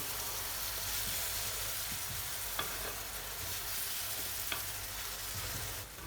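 Onions frying in a pan with butter just added, a steady soft sizzle running throughout with a couple of faint clicks of stirring.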